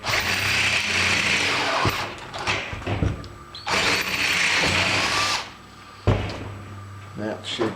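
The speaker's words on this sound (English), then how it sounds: "now I'm going to come back with the F drill." A power drill fitted with an F-size bit bores into previously center-drilled holes in a thin-walled part for an almond centrifuge, whining in three long loud bursts with short mechanical pauses between them.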